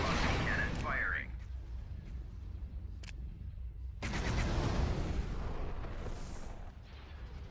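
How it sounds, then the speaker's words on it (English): Hypervelocity cannon shots in a Star Wars space strategy game, Thrawn's Revenge, heard as a sustained rumbling barrage with sharp cracks near the start and a renewed heavy burst midway, under a brief synthetic voice. "Hypervelocity cannon firing."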